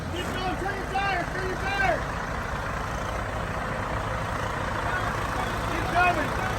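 A semi truck maneuvers at an Illinois beach house construction site, its engine rumbling low and steady throughout while people shout directions over it.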